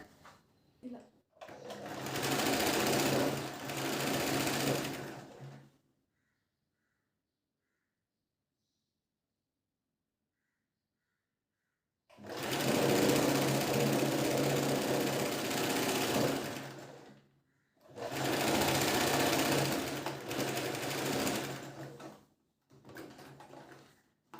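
A sewing machine stitches a princess cut blouse in three loud bursts, running steadily for several seconds each, separated by a long silent pause and a short final run.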